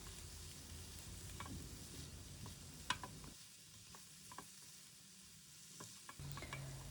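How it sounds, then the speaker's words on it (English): Broccoli and the white part of spring onions stir-fried in a pan, a soft continuous sizzle with occasional scraping clicks of the stirring utensil, quiet and close, no voices. "And now I'm going to add the white part of the spring onions. Let's give this a stir"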